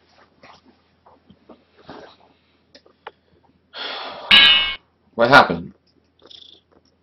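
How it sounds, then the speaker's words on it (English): A pet cat on a desk gives a couple of short, strained vocal bursts near the microphone, with faint breathy sounds and a brief spoken word around them. "My cat's meowing."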